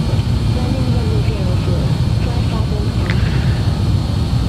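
Jet engines of a BAe 146 airliner in a flight simulator game on approach to London, a steady loud broadband roar throughout with no spoken words.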